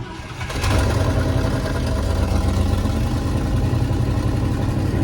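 A cold Ford F-100 pickup truck engine, left sitting for years, cranks briefly and catches, then settles into a loud, steady, rumbling idle close by.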